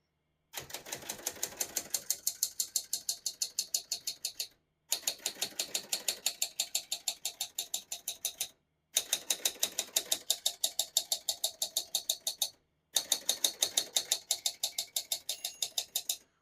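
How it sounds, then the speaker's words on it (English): Rapid, even clacking of keys on a 1970s Royal Express manual portable typewriter in four long bursts separated by brief pauses, close and mechanical, with a steady rhythmic strike pattern. "Once you hear the bell, you're at the end of the margin."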